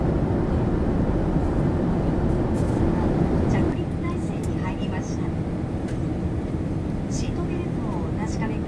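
A steady, dense roar fills an airplane cabin in flight shortly before landing at Itami Airport, with faint speech and small sounds drifting over it.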